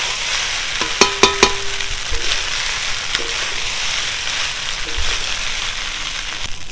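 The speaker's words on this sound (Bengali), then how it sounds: "পাস্তাগুলো মশলার সাথে ভালো করে মিশিয়ে নেবে।" Pasta is stirred with spices in a hot pan, making a steady sizzle with a few sharp clicks of the utensil against the pan near the start and scattered scraping after that.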